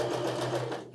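A sewing machine stitches the first seam on a blue strappy dress, with about a 1.5 cm seam allowance in light fabric. It runs as a steady, close, continuous whir for just under a second before stopping.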